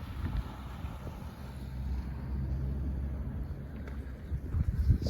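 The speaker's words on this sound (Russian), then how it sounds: "Ох, метет как. Уральская зима." Blizzard wind driving snow through a town in the Ural region, a steady roaring gusty rush with low rumbling buffets against the microphone, growing stronger toward the end.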